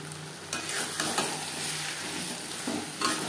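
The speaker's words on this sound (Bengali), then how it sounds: "মশলার সাথে মাছের তেল বেশ ভালো করে মিক্স করে দেব।" Spices and fish oil being stirred together in a hot frying pan, a steady sizzle with repeated scraping strokes of the spoon, close and continuous with no talking.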